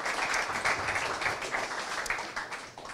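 An audience gives sustained applause to thank participants at the close of an event, a dense wash of many hands clapping at a fairly loud, even level that thins slightly near the end.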